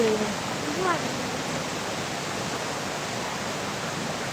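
A waterfall roars with a broad, steady rushing wash of water, loud and unbroken throughout, with a faint brief whistle-like sound near the start.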